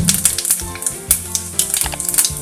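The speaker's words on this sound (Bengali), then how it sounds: "তেলটা আমার গরম হয়ে গেছে, এবার তেলের মধ্যে আমি দিয়ে দেবো 5 ফোড়ন," Panch phoron spices dropped into hot oil for a vegetarian dhokar dalna, crackling and popping in quick irregular bursts over a steady close sizzle.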